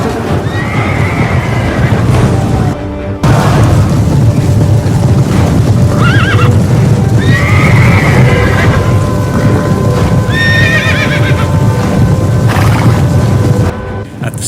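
Cavalry horses whinny and neigh repeatedly amid the din of an ancient Roman battle against Greek and Thracian skirmishers, loud, dense and continuous, with a rumbling roar and a brief drop-out near the start.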